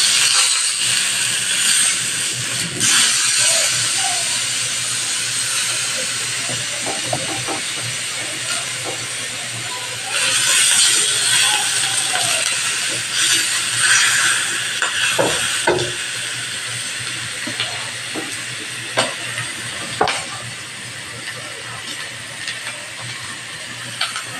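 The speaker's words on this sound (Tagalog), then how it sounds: "Kapag mainit na yung sizzling plate nyo guys, lalagay nyo na yung beef." Beef sizzles on a hot oiled sizzling plate, a loud continuous hiss and crackle close by, with surges as the meat is moved and scattered sharp pops and clinks throughout, no talking.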